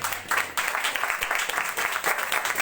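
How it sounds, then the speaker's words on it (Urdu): A church congregation claps along in a quick, uneven rhythm. The claps sound moderately close and lively, with a faint murmur of voices underneath. "میری ماں جی تالیاں بجا رہی ہے, آپ سبھی بھی تالیاں بجائیں."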